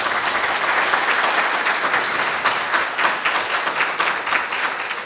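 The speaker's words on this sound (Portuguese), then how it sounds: "Uma salva de palmas." A room full of people applauds steadily at a founding ceremony and lecture series, with dense clapping sustained throughout and no speech.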